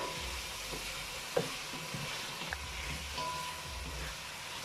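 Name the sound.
saltfish frying in a pan for ackee and saltfish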